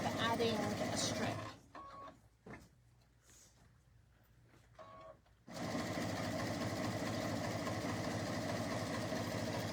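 A sewing machine stitches quilt strip sets together in pairs, running steadily up close, pausing briefly in the middle with a few soft clicks before resuming its fast whirring hum.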